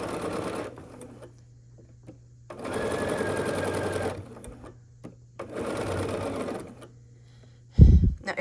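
Two bursts of a sewing machine stitching quilt block pieces for a nine-patch, each running about a second and a half with a quiet pause between, a soft hum under both and a loud handling thump at the end.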